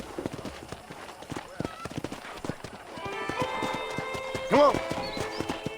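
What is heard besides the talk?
horse hooves clip-clopping, from a video game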